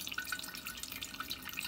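Excess water drips from a Bunn Velocity 10-cup coffee maker, a quick series of faint, light drops and trickles in a quiet room.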